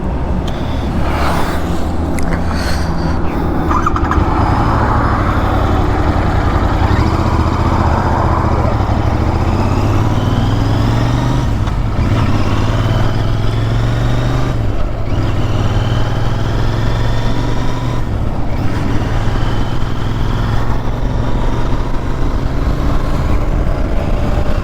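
Royal Enfield Interceptor 650 motorcycle engine running steadily on a morning ride, a loud, continuous drone with wind rush over it and no talking.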